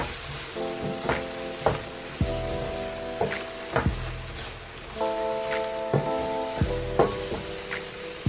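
Crawfish etouffee ingredients, including chopped parsley and green onions, get stirred together in a pot with repeated scraping strokes over a steady soft sizzle, while light music plays underneath.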